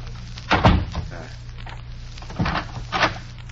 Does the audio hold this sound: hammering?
no